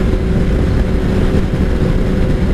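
A 2003 Kawasaki ZR7S motorcycle engine idles steadily nearby, a loud, constant low rumble with no change in pace and no voices.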